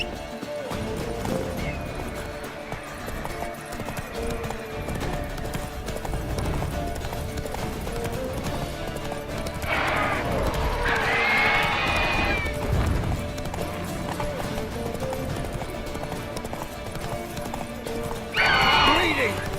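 Roach, a horse in The Witcher 3, gallops with steady clip-clop hoofbeats and lets out two loud whinnies, one midway and one near the end, over continuous game music and sound effects.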